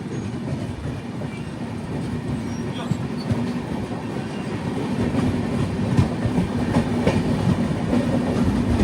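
Vivek Express, the Dibrugarh–Kanniyakumari train, rumbles steadily along the rails, a continuous dense roar of wheels and carriage noise with faint clatter throughout, loud and close as heard from inside the coach.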